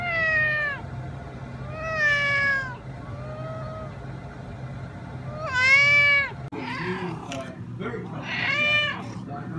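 A cat meows repeatedly, several drawn-out, wavering calls spaced a couple of seconds apart, close and fairly loud, with a person talking in between.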